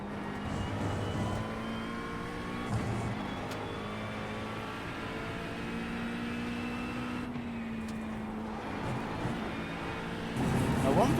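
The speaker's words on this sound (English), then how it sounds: "Got another LMP2 looking to fight their way back through after their first lap excursion." Several LMP2 prototype race car engines drone and whine steadily in an iRacing sim race, a sustained layered roar with shifting pitch as cars pass nearby, while someone talks over the top throughout.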